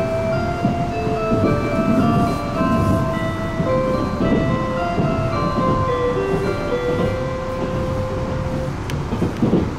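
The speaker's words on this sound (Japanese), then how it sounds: "列車は越後平野に入ると、再び高速運転を実施" A JR East limited express Inaho train runs at high speed across the Echigo Plain toward Niigata, heard from inside the car as a continuous low rumble with tonal hums that shift in pitch and a faint click near the end.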